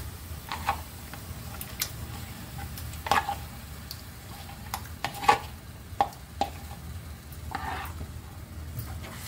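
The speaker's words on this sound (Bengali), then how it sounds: "এবার আমি 2 ঘন্টা যে মাংসটা ম্যারিনেট করে রেখেছিলাম বোনলেস চিকেনটা, সেটা এর মধ্যে দিয়ে দেবো" Marinated boneless chicken goes into a pan of browned onions for chicken rezala and gets stirred, with a low steady sizzle under scattered scraping and clinking of a spoon against the pan.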